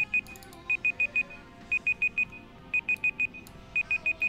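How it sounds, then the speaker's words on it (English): An electronic alarm goes off during a live stream, sounding repeated bursts of four or five quick high beeps with short pauses between groups, loud and close. "Oh no, the alarm."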